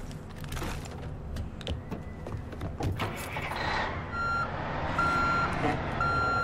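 Repeated electronic reversing beeps from a truck in the video game Far Cry 5, a steady series of evenly spaced tones rising over a rumbling engine and game ambience in the second half.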